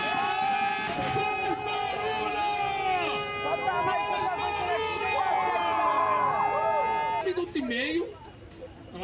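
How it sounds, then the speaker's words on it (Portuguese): Ambulance siren wailing on Avenida Paulista in São Paulo, a loud, continuous rising-and-falling tone with busy street noise and people talking over it, fading out near the end. "Tudo bonitinho, tem ambulância."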